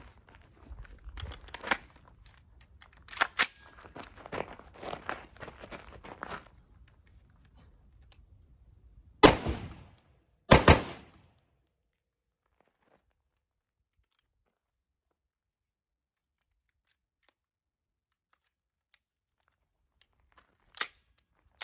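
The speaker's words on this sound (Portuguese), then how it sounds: "vamos fazer a mesma sequência, um disparo único e 2 disparos rápidos." Sharp shots from a Taurus T4 5.56 rifle crack out, a single shot followed by two in quick succession, after some quieter handling clatter; one more faint crack comes much later.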